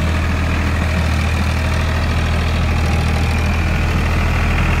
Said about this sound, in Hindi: ये ट्रैक्टर है फार्म ट्रैक चैंपियन, 7 फिटा रोटावेटर में चल रहा है।